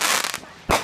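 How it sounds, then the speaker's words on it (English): Consumer fireworks burst with a sharp crackling blast, fade into a brief hiss, then a second close, loud bang follows. "Fireworks gone bad."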